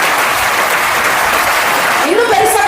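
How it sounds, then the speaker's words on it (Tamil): Dense, sustained applause from a large audience, loud and steady throughout, with a voice briefly rising over it near the end. "இன்னும் பெருசா கைத்தட்டிக்கோங்க உங்க அம்மாவுக்காக."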